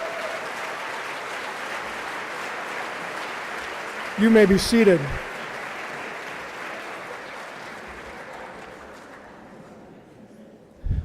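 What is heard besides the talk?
banquet audience applauding student athletes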